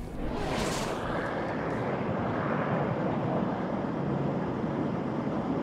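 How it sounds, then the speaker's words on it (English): A Jet Class racing jet roars past at the Reno National Championship Air Races, a loud, sustained broadband rush buffeted by wind noise on the microphone. "the sound of the Fury we can hear here in Reno is the Jet Class B"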